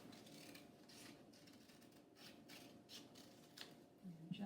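Scissors snip and rasp through paper in a quiet craft setting, with soft, close cutting strokes repeating irregularly and no voices.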